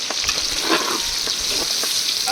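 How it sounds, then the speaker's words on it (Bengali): Onions go into a hot pan for coriander chicken roast, setting off a loud, dense sizzle that holds steady with faint utensil ticks throughout. "এখন দিয়ে দিব লং পেঁয়াজ"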